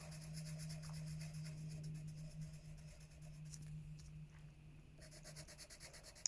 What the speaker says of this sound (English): With a pencil, it's kind of long to colour in.